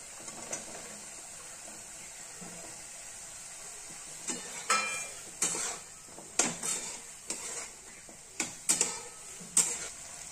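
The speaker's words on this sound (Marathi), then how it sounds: "आपण हे जे चिरलेले बारीक दोडका आहे तो टाकूया." Chopped ridge gourd tumbles into a hot pan for a Maharashtrian dodka bhaji, followed by scattered stirring scrapes and clinks of a spoon against the pan over a soft, steady sizzle; close, with no talk.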